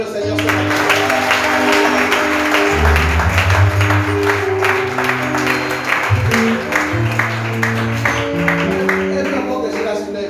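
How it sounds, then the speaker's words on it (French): A church congregation applauds during a sermon, with steady rhythmic clapping mixed with loud music and a prominent bass line, energetic and continuous throughout. "Quelqu'un peut acclamer le Seigneur ce matin?"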